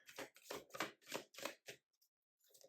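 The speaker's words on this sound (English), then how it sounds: "Sometimes it's just one more shuffle and 5 more cards." Tarot cards being shuffled by hand, a quick run of about six close riffling bursts, then a short pause before a softer final rustle.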